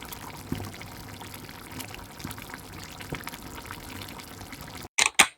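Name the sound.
water poured into a pot for spaghetti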